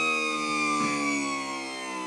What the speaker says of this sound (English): You can hear it cavitate, you know it's up.